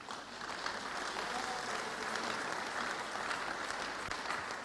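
Congregation applauding in church, a steady dense wash of clapping held at an even level throughout, with no talk over it.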